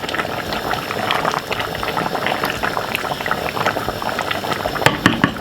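Jamaican-style oxtail stew seasoned with beef seasoning bubbles steadily in a pot, a dense, continuous boil with constant popping and gurgling, close and fairly loud, with no talking.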